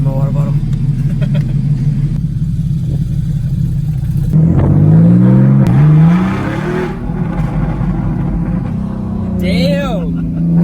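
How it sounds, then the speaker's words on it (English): A Porsche Cayman engine idles with a low rumble, then revs up loudly in a couple of rising bursts before settling back, heard close with some voices around it. "hopefully I can get some good footage of us revving up the engine in the Porsche"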